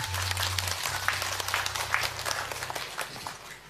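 A studio audience of women applauds at an Islamic religious talk show, a dense, steady wash of many hands clapping that fills the whole stretch, with a low hum at the very start.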